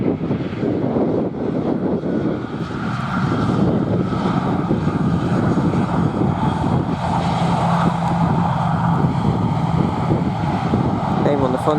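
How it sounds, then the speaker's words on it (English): An easyJet Airbus A319 airliner lands at London Luton airport on a windy afternoon, its broad engine roar steady and fairly loud throughout, mixed with gusty wind buffeting. "An Airbus A319 of easyJet."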